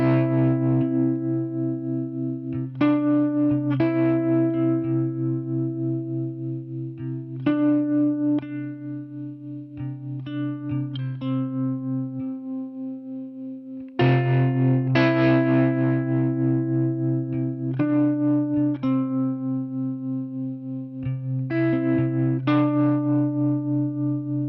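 Driven electric guitar played through an amp simulator via direct input, with sustained distorted chords and single notes ringing out in phrases, loud and close with no talking.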